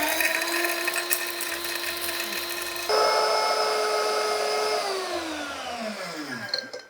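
Electric grinder motor whirring steadily as it pulverises dried turmeric roots into powder at home, a loud continuous whine that shifts pitch partway through, then winds down as the machine switches itself off at the end.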